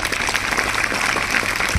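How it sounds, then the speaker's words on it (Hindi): An audience at a school honours ceremony claps loudly and continuously, a dense crackle of many hands that carries on without a break. "उनके लिए जोरदार तालियां बजाएंगे"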